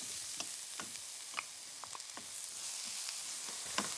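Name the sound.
cucumbers stir-frying in a pan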